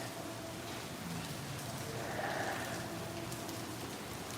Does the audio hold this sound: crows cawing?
no